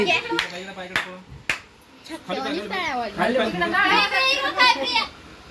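A few sharp hand claps ring out at a child's birthday party, quickly followed by a voice and other people talking close by.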